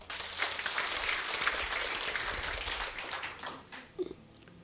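Congregation applause at a church service, steady clapping from a crowd that tapers off near the end, fairly faint overall.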